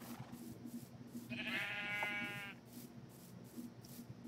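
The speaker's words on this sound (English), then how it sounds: "Got a pissed off sheep." A sheep in a farming video game gives one drawn-out bleat lasting about a second, clear over a soft looping background tune.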